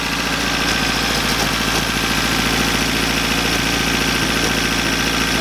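A Toyota 4Runner engine idles with a slight misfire, a steady low mechanical drone with faint irregular knocking and vibration running close and even, no voices.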